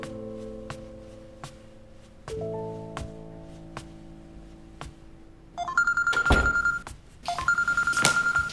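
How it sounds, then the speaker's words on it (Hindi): A phone rings with an incoming call, starting as a soft repeating chime and then turning louder into two bursts of bright electronic ringing, close by and with no talk. "तुम्हारी कॉल आ रही है, उठा क्यों नहीं रहे?"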